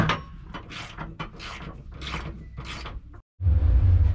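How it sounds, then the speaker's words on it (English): A ratchet wrench clicks in a series of quick bursts while parts are bolted into a Honda track car, close and distinct, followed by a brief silence and then a louder low mechanical rumble. "I'm gonna go ahead and bolt in our pieces"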